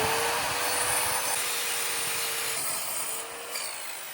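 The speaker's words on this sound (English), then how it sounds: "let's get some battens cut for the wall" Wooden battens for a wall are sawn to size in a countryside home, giving a continuous rasping, rubbing noise of steady strokes close by. It eases off slightly toward the end, and there is no talk.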